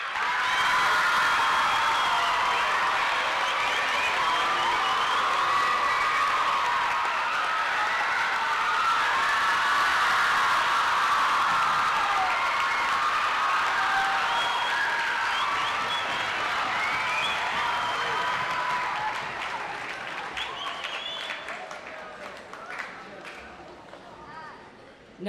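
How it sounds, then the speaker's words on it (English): Loud sustained crowd cheering and clapping at a school ceremony, a dense wall of noise that holds steady before thinning and fading toward the end. "you may cheer, clap, and make as much noise as you can"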